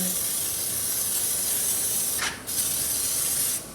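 Generic brake dust cleaner sprays onto a car wheel rim in a steady, loud, close hiss that runs for several seconds with one brief break.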